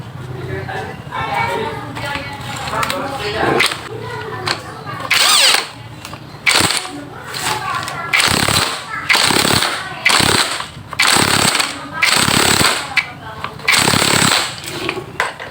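A power tool tightens the rear shock absorber mount on a Chevrolet Spin, with loud, rapid hammering bursts in several spaced runs close by, and someone talking before and between them.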